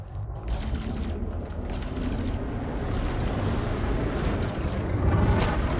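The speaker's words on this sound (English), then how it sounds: "we're going to use the Cyto scramblers only on the shields here." Cytoscrambler weapons on a Cyto Chieftain ship firing at an enemy ship's shields in a space combat video game: a continuous, dense rumbling barrage of rapid mechanical bursts, steady and loud throughout.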